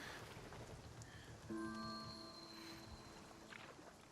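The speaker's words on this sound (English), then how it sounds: "Feels thematically appropriate that it's just dumping rain." Heavy rain pours steadily in the video game Spiritfarer, a soft, constant patter with faint game tones and chimes rising over it partway through.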